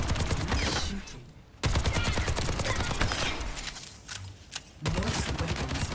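Weapon fire at training bots in the video game Overwatch 2: loud, continuous bursts of rapid shots that break off briefly twice and then resume, close and dominant throughout.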